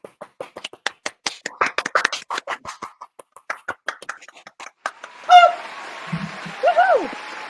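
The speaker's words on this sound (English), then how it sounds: "we give the golf clap?" A few people give a quiet, polite golf clap at a wrestling podcast, with sparse, close, individual claps in an uneven rhythm, followed by voices and a brief whoop.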